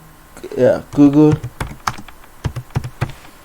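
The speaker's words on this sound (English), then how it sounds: "let me type Google Play Store" A short voiced sound at the start, then a run of sharp computer keyboard keystrokes, irregular and close up, clicking loudly one after another.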